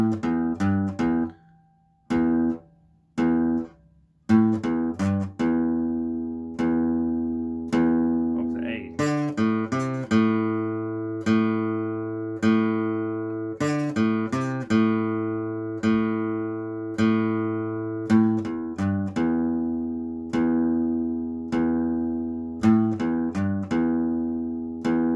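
An electric guitar plays a repeating blues riff of plucked notes and bent strings, clear and close, with short pauses near the start.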